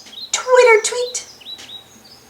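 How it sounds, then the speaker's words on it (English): Robins singing in a spring forest, a few bright chirping phrases in quick succession, fairly close and clear, with no other sound around them. "robins sang cheerfully in the trees. Twitter-tweet, twitter-tweet."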